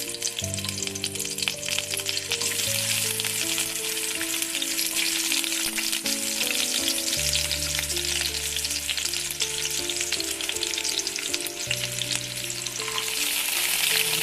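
Frying in hot oil for holige saaru, a continuous bright sizzle that runs for the whole stretch beneath louder steady music, with no voices.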